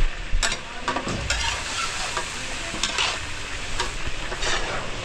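Food sizzles steadily while frying in a pan for a catering job, with a utensil stirring and scraping through it in irregular strokes, close and fairly loud.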